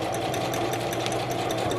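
A sewing machine drives its needle through a thick denim flat fell seam on a jacket, giving a steady, dense mechanical whir that runs unbroken and close for the whole stretch.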